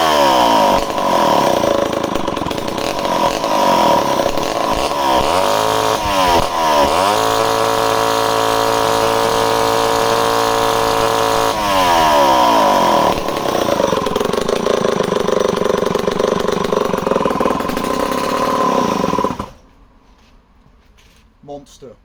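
A vintage Homelite C51 chainsaw roars loudly and close for almost twenty seconds as it cuts wood, its engine pitch dipping and rising with the cut before it cuts out and leaves quiet.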